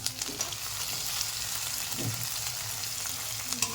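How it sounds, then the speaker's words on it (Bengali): Ginger and tomato hit hot oil with frying spices in a pan, giving a steady close sizzle and crackle with faint stirring scrapes and small pops. "এবার এই আদাটা আর এই টমেটোটা দিয়ে দেবো।"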